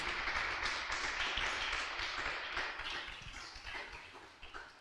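A church congregation at a live worship service applauds together, a dense, even wash of clapping that carries on for several seconds before gradually thinning and fading.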